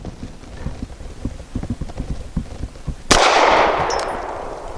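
An Archon Type B pistol fires a single hollow point round outdoors, a sharp loud crack followed by a decaying ring, after a stretch of quiet rhythmic clip-clop footsteps.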